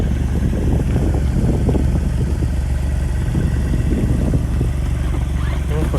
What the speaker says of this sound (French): Tu veux bien faire un petit départ là qu'on entende un peu là pour voir